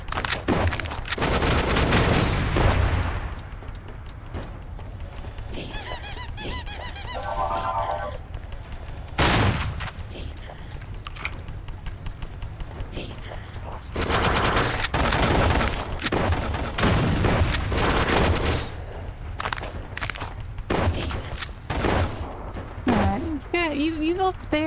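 Shotgun fire in the video game Mohrta, with heavy booming blasts repeating through a dense, loud battle mix of explosions and mechanical clatter, and a voice talking over parts of it.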